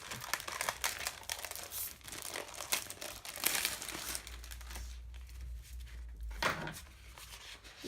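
Scrapbooking paper sheets from a haul are handled and flipped close up, giving repeated crisp crinkles and rustles with a few sharper crunches and no talking.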